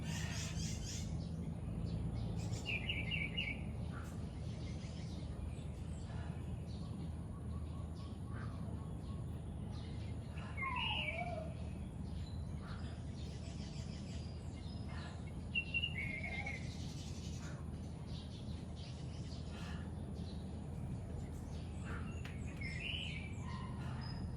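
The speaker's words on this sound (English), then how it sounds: "I'm hearing the birds outside, beautiful sounds" Distant birds chirping and calling intermittently outdoors over a steady low background hum.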